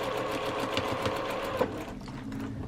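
A sewing machine runs continuously while stitching pre-cut quilt kit pieces with a quarter-inch seam, giving a steady, close mechanical hum with a rapid needle rhythm, easing slightly near the end.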